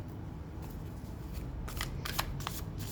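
Tarot cards are shuffled and drawn during a reading, with a steady papery hiss and several crisp card slaps and snaps toward the end, close and fairly quiet.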